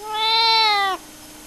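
A single cat meows once, loud and close, a clear drawn-out tone that ends abruptly, with nothing else around it.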